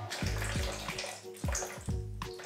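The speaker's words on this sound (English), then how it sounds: "So we're gonna take 232 grams of water and that goes in first" Water pours into a bowl as the first ingredient for ciabatta dough, a close, steady trickle with a few gurgling splashes, no talking.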